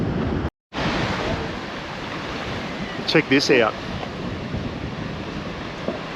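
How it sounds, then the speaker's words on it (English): Ocean waves surge and crash through the channel at Canal Rocks near Yallingup in Western Australia, a steady roar with wind buffeting the microphone. Someone speaks briefly over the surf, and there is a short dropout near the start. "The ocean crashes in through there"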